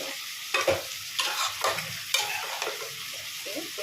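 Soaked bora fritters being lowered into hot oil, giving a soft sizzle with a few stirring scrapes and louder bursts as each piece goes in, close by, with no talking.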